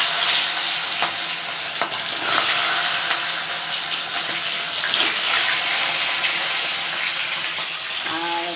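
A fish head fries in hot oil in a home kitchen, giving a loud, continuous hissing sizzle with occasional clicks and clatters throughout.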